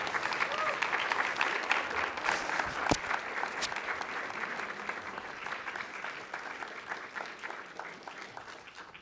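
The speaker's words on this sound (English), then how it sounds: "give a big round of applause for GURUDEV." Sustained applause from a large town hall crowd, steady and loud throughout, slowly easing toward the end.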